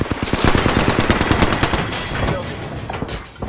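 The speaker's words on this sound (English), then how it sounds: "I am taking fire." Rapid automatic gunfire in the battle royale shooter Apex Legends, dense bursts of shots rattling almost continuously for several seconds, loud and close, with faint game voice lines underneath.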